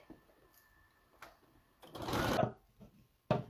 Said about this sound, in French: Je vais coudre ici pour assembler.